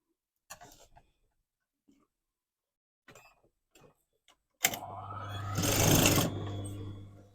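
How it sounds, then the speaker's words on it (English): A sewing machine stitches the final row along a trouser waistband, running steadily for about three seconds after a few faint handling clicks and taps. "I'm ready now to start stitching that final row on the waist"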